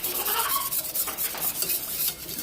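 A whisk stirs spices into a homemade enchilada sauce in a pan, making quick close scraping and swishing strokes in a steady rhythm with no voices.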